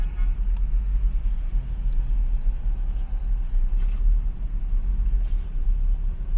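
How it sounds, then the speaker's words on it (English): Heavy, congested road traffic around Makkah: a constant low rumble of engines with a few faint higher hisses and clanks, like air brakes, passing over it, steady and fairly close. "And the whole traffic around, absolutely chocker."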